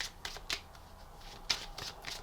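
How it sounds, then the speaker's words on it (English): Oracle cards being shuffled by hand, several quick riffling bursts with short pauses between them, close and fairly soft, with no talking. "Maybe I'll shuffle them together."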